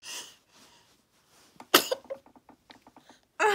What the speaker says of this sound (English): It's the hiccups on his sneeze.